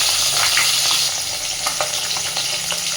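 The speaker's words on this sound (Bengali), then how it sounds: "তো চলো মাছগুলো আগে ভেজে নিই।" Koi fish frying in a pan with a steady, bright sizzle of hot oil, crackles and pops flaring now and then, occasional stirring, no voices.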